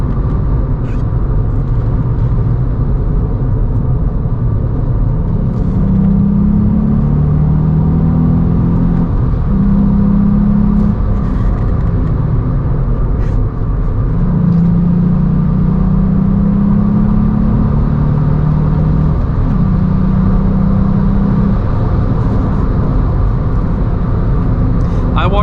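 A Volkswagen Up GTI hums along on the road, its engine droning steadily and rising in pitch through several gear pulls, with road rumble beneath and a person talking throughout.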